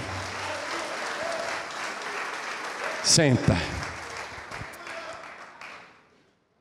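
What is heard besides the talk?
congregation applause in church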